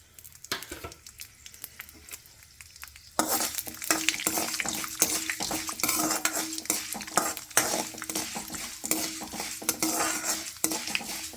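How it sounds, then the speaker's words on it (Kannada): Fenugreek seeds drop into hot oil in a pan and fry: a quiet start with a few taps, then a sudden loud crackling sizzle with steady stirring and clinks of a metal spoon against the pan. "ಎಣ್ಣೆ ಕಾದಿದೆ, ಇವಾಗ ಮೆಂತ್ಯಕಾಳು ಹಾಕ್ತಾಯಿದ್ದೀನಿ."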